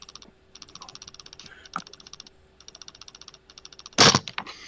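Keyboard clacking comes through a voice chat as rapid runs of close typing clicks, with a brief loud thump near the end.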